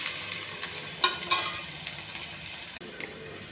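Cauliflower frying in a pan for curry and being stirred, with a soft sizzle under a few scraping, clicking strokes of the spoon that stop abruptly near the end.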